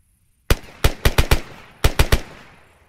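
Suppressive rifle fire in Arma 3 crackles in two close, loud bursts of sharp gunshots, five rapid shots and then three more, each one leaving a short echoing tail.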